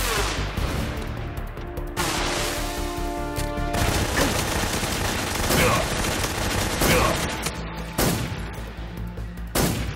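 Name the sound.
Tommy gun firing in video game Metal Gear Solid 3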